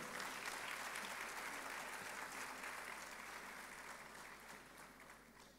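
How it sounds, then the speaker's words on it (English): A crowd at a school's 50th anniversary celebration applauds the Minister of Education and MP for Tamale South. The clapping is broad and sustained, loud at first and slowly fading over several seconds. "Please applaud him"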